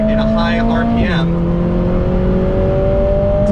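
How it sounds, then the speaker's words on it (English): A 2025 Lotus Emira with its 2.0 four-cylinder engine holds a steady high-rpm drone that dips briefly and then climbs smoothly again, loud and close. "this is actually one of the best sounding 4-cylinders I have ever driven"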